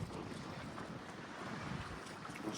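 Sea waves wash against a Greek shore in the evening, a faint, steady surging wash blended with wind buffeting the microphone, quiet and continuous with no voices.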